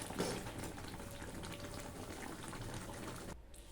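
Thick mung dal poured out of a pot, a soft continuous bubbling, slurping liquid sound, faint and close, ending abruptly.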